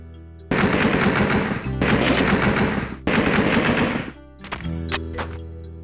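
Loud, sustained bursts of Thompson submachine gun fire in the video game Alone in the Dark 2, three long volleys back to back, then a few scattered shots trailing off with clicks.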